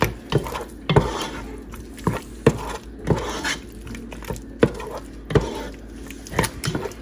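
Seafood being stirred and tossed with Old Bay seasoning, pepper and salt for a Cajun seafood boil, producing irregular soft knocks and wet patters of a utensil against a bowl, close and fairly quiet.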